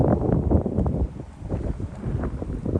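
Steady wind buffeting the microphone, a low rumbling roar with gusty swells throughout and no talking.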